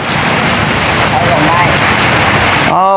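Heavy rain pours down steadily and loudly close by, a dense unbroken wash of noise on an outdoor street, ending abruptly with a brief burst of sound.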